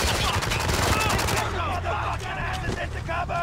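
Dense gunfire in the military shooter Spec Ops: The Line, rapid automatic bursts layered over a continuous rumble of battle, loud and close, with shouting voices mixed in.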